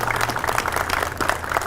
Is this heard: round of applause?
yes